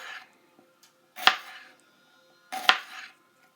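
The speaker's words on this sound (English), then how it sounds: "so you're going to make the pieces thinly sliced" A knife slices through chicken pieces for a teriyaki stir fry. Two separate crisp cuts land on a board, close and clear, with quiet gaps between them.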